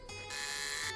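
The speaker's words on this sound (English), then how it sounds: "buzzer, I guess" An electric door buzzer from the game Shardlight drones harshly for most of a second, loud and close, with no talk over it.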